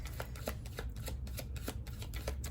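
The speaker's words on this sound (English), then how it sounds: "I'm trying to shuffle" Tarot cards are shuffled by hand in quick, regular riffling strokes, soft and close, repeating steadily against a low background rumble with no talk.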